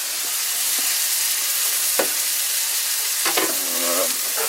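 A hamburg steak sizzles and fries loudly in a cast iron pan, a dense continuous hiss up close with a few brief clicks and scraping stirs, no voices.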